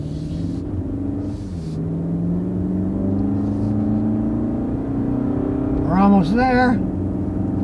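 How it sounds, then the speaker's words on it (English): Engine of a new Toyota Camry on a drag strip: a steady, throaty drone with a rising whine as the car pulls hard, heard close inside the cabin under a voice. "Makes a nice throaty sound too. It's not dull like the old Camrys."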